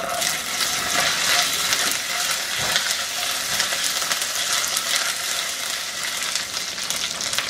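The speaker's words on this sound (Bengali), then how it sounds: "এইটাকে এর সাথে একটু ভেজে নিব" Ginger paste fries with browning garlic and spices in hot oil, a continuous crackling sizzle with small stirring scrapes, close and loud throughout with no talk.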